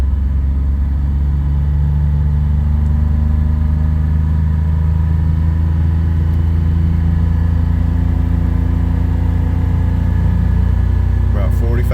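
A Buick Grand National engine idles up and holds a steady mid-range speed of about 2,500 rpm, giving a loud, continuous low drone with a constant pitch and no free revving.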